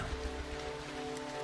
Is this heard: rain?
yes